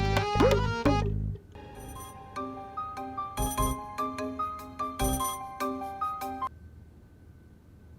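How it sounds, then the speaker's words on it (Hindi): A new mobile phone ringtone plays as a bright repeating chime melody, loud and clear, after a short burst of other music, then fades to quiet room tone. "फिर कैसी लगी अपने मोबाइल की न्यू रिंगटोन सुन के?"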